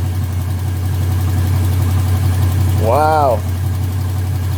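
A Luhrs 28 boat engine idles steadily after a hose fix, a loud, even low rumble throughout, with a man's brief exclamation breaking in over it near the middle.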